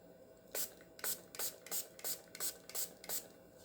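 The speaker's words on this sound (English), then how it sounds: "I am going to give this a spray" Short hissing bursts of an aerosol spray can, about eight quick sprays in a steady rhythm, close and fairly quiet.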